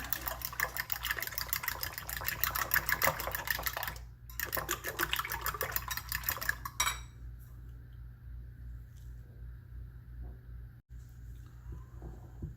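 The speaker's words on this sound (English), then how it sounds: "And then just whisk with a fork." Fork whisking room-temperature eggs in a bowl for a mint chocolate cheesecake, a steady rapid clinking and scraping that runs for about seven seconds with a brief pause, then stops, leaving a quiet room.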